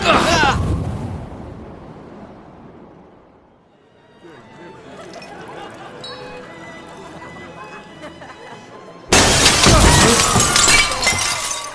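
Glass shatters in a loud crash at the start, then again in a second violent burst of breaking glass near the end, with quieter clattering and debris in between.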